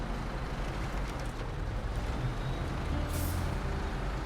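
A heavy truck in the SnowRunner video game rumbles with a constant low engine drone, close and steady, with a short hiss of air brake release near the end.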